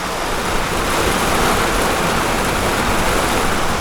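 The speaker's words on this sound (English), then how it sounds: "So much rain, so it's never ending." A dense, steady roar of heavy rain pouring down at a campground on New Zealand's West Coast, loud and continuous with no pauses or voices.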